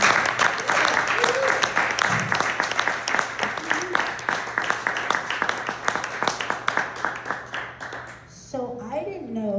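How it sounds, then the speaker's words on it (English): Museum audience gives a poet a big round of applause at a poetry performance evening, dense steady clapping that fills the room and tapers off, with a few voices and cheers rising near the end. "One more big round of applause"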